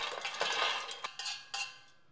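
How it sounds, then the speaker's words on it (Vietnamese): Roasted chicken bones tumble into a metal stock pot, giving a scraping, hollow clatter and a few sharp knocks that fade quickly, close and fairly quiet. "Cho phần xương gà đã nướng vàng vào nồi."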